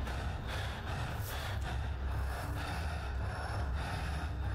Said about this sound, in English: Stop breathing in my ear!